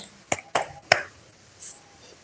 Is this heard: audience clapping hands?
yes